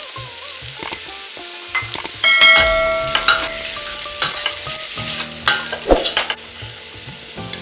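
Fresh grated coconut sautéed and stirred in a pan for masale bhat, giving a steady sizzle with repeated spoon scrapes and clinks against the metal, close and fairly loud throughout, with no talking.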